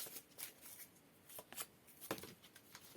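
Tarot cards being shuffled by hand, quiet papery riffles and soft slaps in irregular bursts, close and faint with no speech.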